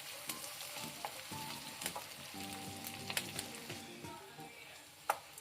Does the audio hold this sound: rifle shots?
no